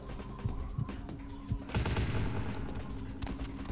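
Rapid bursts of gunfire crackle in a PC game of Vampire: The Masquerade – Bloodlines, shots popping in quick clusters with a heavier volley partway through, fairly loud with game noise between.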